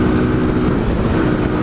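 A 2017 Kawasaki Z125 motorcycle with a small 125 cc engine and four-speed transmission, ridden in traffic: a loud, steady engine drone at high revs, with wind rush over it and no pause.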